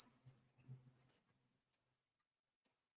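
A single cricket chirps in short, high, bright pulses at irregular intervals on a quiet night, faint and close, with a low murmur underneath at the start.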